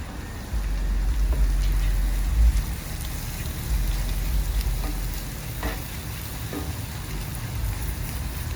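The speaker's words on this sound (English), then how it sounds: "here goes the 1 pound of Gulf shrimp" A pound of Gulf shrimp sizzles and fries in a hot pan with a steady crackling hiss, stirred and tossed, a low clatter of handling beneath.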